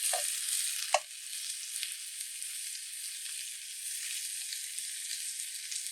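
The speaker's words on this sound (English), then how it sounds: "I have the pan set up here to start searing the oxtails in." Oxtails searing in a hot pan, browning on each side: a steady, bright sizzle throughout, fairly loud and close, with a sharp pop near the start and no talking.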